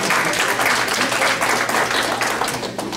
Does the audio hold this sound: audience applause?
yes